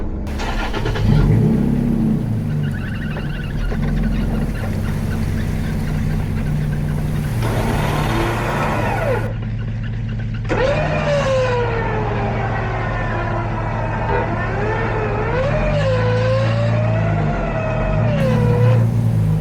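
An off-road vehicle's engine revs hard and continuously while climbing out of a deep hole on a trail, the pitch rising and falling with throttle changes, loud and close throughout.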